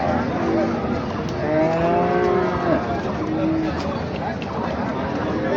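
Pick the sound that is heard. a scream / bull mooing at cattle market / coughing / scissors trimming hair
bull mooing at cattle market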